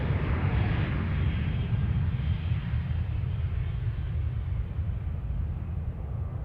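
Qantas Boeing 737 taking off from Adelaide Airport, a steady broadband jet engine roar heard from a distance that holds constant and fades slightly, with no talk over it.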